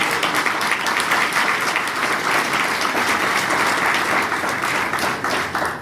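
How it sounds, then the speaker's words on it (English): Steady audience applause fills a Harm Reduction Hawaii conference hall in 2017, a dense, even wash of many hands clapping at close range and holding at full strength throughout. "Please give a round of applause for our"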